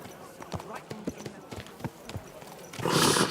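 In Kingdom Come: Deliverance 2, a horse's hooves clop in an uneven series of thuds over ambient game sound, followed by a louder rushing burst near the end, with speech mixed in.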